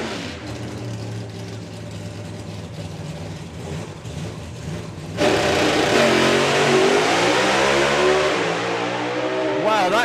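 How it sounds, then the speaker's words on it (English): A drag racing doorslammer car accelerating hard down a quarter-mile strip at the VP Doorslammers 2022 event, a loud roaring engine surging and rising in pitch, with an announcer talking over the run. "This is one seriously quick race car."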